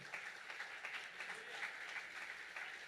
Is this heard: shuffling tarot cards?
no